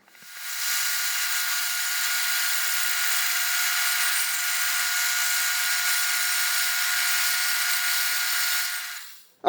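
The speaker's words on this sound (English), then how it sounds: "we're going to go ahead and cut those chunks off now" A power saw cutting chunks off a wooden piece for a bow tillering tool, one continuous loud high-pitched cut of about nine seconds that stops abruptly, with no talking.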